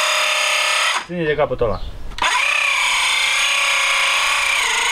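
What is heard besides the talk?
circular saw cutting wood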